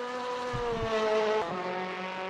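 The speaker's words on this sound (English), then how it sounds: "These cars are loud though. They've got quite a unique sound" A loud, buzzy turbocharged WTCC touring race car engine drones steadily up close at Zandvoort, its pitch shifting as it changes gear, with no talking.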